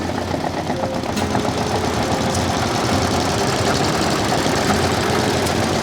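A 1950s Southern Cross ETB diesel engine, built 1952 to 1958, runs steadily close by, with a loud, even chugging knock and mechanical rattle continuing throughout, no voices.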